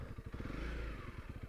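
A Honda CRF300L dual-sport motorcycle ridden off-road, its single-cylinder engine chugging in a fast, pulsing putter with a brief rise in revs, close by and without talk.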